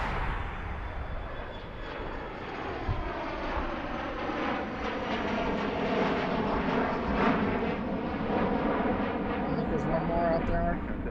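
An airliner roars down the runway at Philadelphia airport and climbs away, its engine noise loud and continuous with a sweeping tonal whine shifting through it, and voices murmuring underneath.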